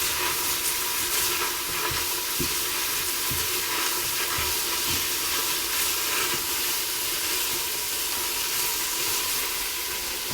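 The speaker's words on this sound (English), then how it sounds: "I'm going to put my garlic in for the last minute of the sautéing and just stir that around" Onions and garlic sauté in a pan, giving off a constant, even hiss and sizzle with a few soft stirring knocks and no voices.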